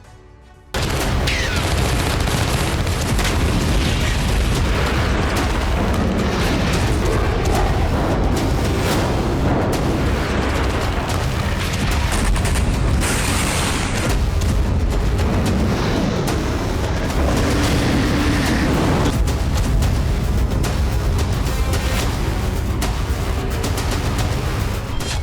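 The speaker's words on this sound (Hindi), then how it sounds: "सन्नाटे के बीच रह रहकर गूंज रहे हैं धमाके।" Explosions and gunfire sound over war-torn Avdiivka, Ukraine, as a dense, loud, unbroken barrage of booms and crackling bursts with no pause.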